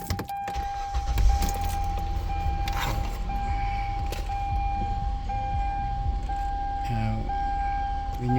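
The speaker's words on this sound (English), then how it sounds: "So here we are, we're going to start the vehicle." 2007 Hyundai Santa Fe with a battery charging fault being started: a cranking burst near the start settles into a steady idle with a constant high warning tone, plus some handling and clicking noises, moderately loud and close.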